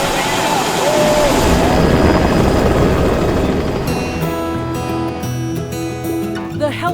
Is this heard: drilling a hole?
no